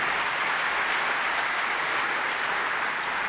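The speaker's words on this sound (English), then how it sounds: "let's give him a round of applause" A room full of people applauds in a continuous, even roar of clapping that holds steady throughout, with no voices standing out.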